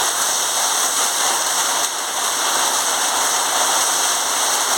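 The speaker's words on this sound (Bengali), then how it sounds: "বৃষ্টি হচ্ছে বলে শোনা যাচ্ছে না" Heavy rain pours down in a steady, dense hiss that fills the whole stretch evenly and loudly, unbroken and with no voices over it.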